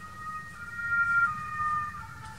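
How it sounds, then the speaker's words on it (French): An ambulance siren passes outside, a faint, distant wailing tone rising and falling steadily over a quiet indoor background. "décidément aujourd'hui l'ambulance ça n'arrête pas"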